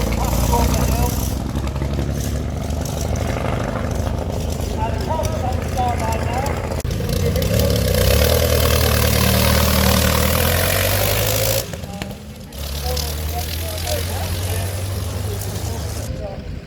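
A land speed record car engine: a loud, continuous roar dominates throughout, rumbling and droning with shifting pitch, briefly dipping before resuming at full volume, at a hill climb.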